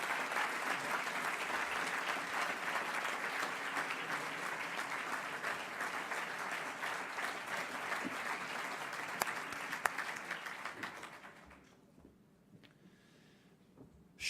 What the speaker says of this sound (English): Ladies and gentlemen, a warm applause for Francisco Urquijo Otero.